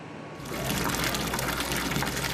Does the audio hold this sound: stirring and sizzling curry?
no